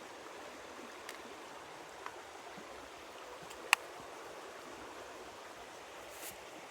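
Quiet river flowing past a riverside seat, a soft steady rush of water with a few faint clicks and one sharp tinkling hit partway through.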